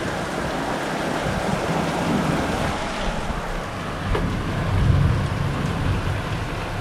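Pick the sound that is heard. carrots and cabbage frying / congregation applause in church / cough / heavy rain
heavy rain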